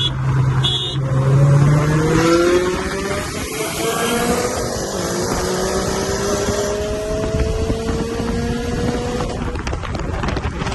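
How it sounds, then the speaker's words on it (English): A modified Dodge Challenger T/A with a V8 drives past after a street race, its engine note rising and sweeping through gears, loud and close at first and then a sustained drone with wind buffeting. "After I just got through racing him, a Challenger TA edition. It's a V8."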